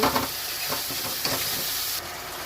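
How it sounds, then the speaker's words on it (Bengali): Katla fish kalia masala gravy being stirred and fried in a pan, a steady sizzle with scraping spoon strokes, close and continuous. "এটা ভালো করে মিক্স করবো, নেড়ে নেবো ভালো করে"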